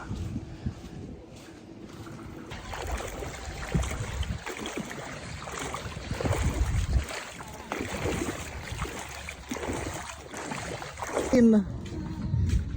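A bangka boat rumbles across the water to an island with wind noise and splashing, while people talk over it throughout.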